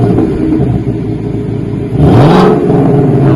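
A 2025 Mustang's engine, fitted with a true X pipe in place of the factory resonator and still on stock mufflers, idles loudly, then blips into a short, rising rev that swells and drops back.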